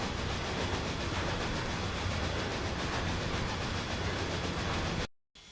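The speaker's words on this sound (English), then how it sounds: "So the train's making its way up there" A train runs on the rails in Trainz 2022, a dense, steady, loud rolling rush with a continuous hiss and faint high whine, cutting off abruptly near the end.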